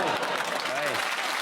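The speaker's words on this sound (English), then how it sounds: "You all groaned and then applauded" An audience applauding after a joke, a brief wash of steady clapping from a crowd with a short vocal murmur mixed in.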